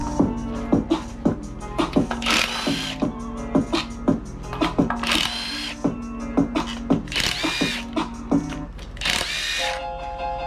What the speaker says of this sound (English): I'm gonna loosen all these bolts